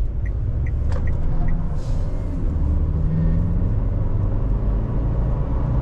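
A ZNA Rich 7 pickup truck drives along, its engine and road noise forming a steady, loud rumble heard from inside the cabin, with a few faint clicks near the start.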